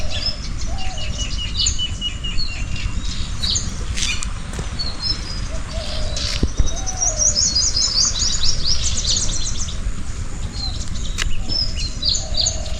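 Small birds such as sparrows and parrots call and chirp steadily among nearby trees, with bright repeated twitters and short tweets layered over a constant low outdoor rumble.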